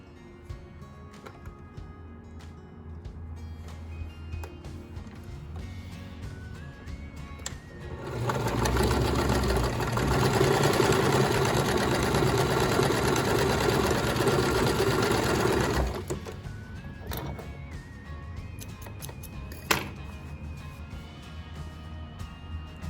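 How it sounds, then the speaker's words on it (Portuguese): Sewing machine joining patchwork fabric squares right sides together for a scrap cushion, running in one steady loud burst of stitching mid-clip amid quiet room sounds. "A gente coloca o direito com direito e costura no avesso."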